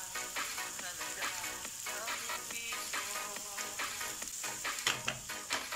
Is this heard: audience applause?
no